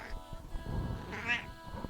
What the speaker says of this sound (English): we got the cat on scene